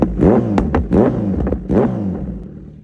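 A Kawasaki Z900 with a full Arrow exhaust system is revved hard in three quick, loud blips, its close, rasping roar rising and falling.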